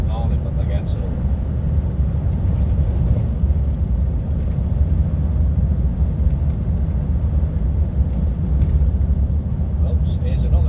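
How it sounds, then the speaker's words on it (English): A car passes on a rural road near Tain in the Scottish Highlands, heard from inside a lorry cab as a steady low rumble that fills the whole stretch, with no one speaking. "here's another car."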